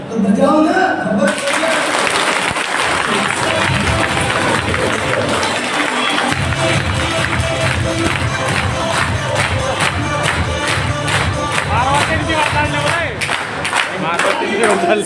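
An audience at a marketing company's motivational sales meeting in Kukshi, Madhya Pradesh, clapping loudly and cheering in a dense, continuous roar, with voices shouting within the crowd noise.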